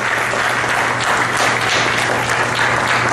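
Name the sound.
congregation applause in church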